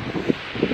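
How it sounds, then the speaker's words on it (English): Wind gusts buffet the microphone in a brief burst of rough, rumbling noise. "Oh, it's still windy."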